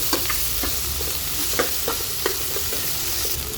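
A paneer butter masala base with ginger garlic paste fries in a pan, giving a loud continuous sizzle broken by regular scraping stirs of a spoon.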